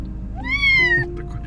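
A small kitten lets out a single clear, close meow that rises and then slides down, loud over a low room hum.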